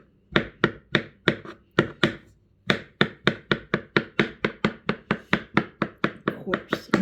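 Apples chopped by hand on a board toward a coarse texture, a fast, steady run of sharp knife thunks close by, with a brief pause early on before the rhythm resumes and quickens.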